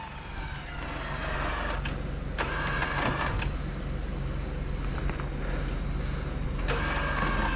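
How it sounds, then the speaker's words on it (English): An off-road vehicle winch pulls a Jeep along a rough trail, a steady mechanical whine and drone rising and holding close by, with scattered clanks and rustles over it. "Winch is doing its job."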